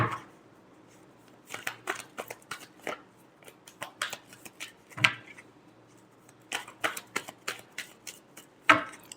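Tarot cards shuffled by hand in bursts of quick, crisp riffling flutters, each a brisk papery run broken by short pauses, close and fairly quiet with no talking.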